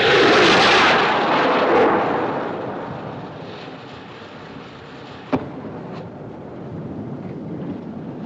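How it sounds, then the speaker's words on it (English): Film sound from the 1958 Titanic drama of a ship's distress rocket, a loud whooshing rush that fades over a few seconds into a low rumble, then a sharp distant pop and a fainter second crack. "Looked like a rocket, sir."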